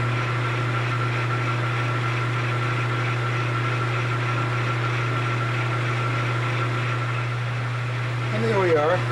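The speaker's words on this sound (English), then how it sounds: "Now I'm going to ream the hole through the casting to an accurate .250 inch diameter" Steady machining drone of a 1/4 inch chucking reamer cutting a hole through a casting on a lathe, a constant motor hum with a sustained tone held throughout and a brief squealing rise near the end.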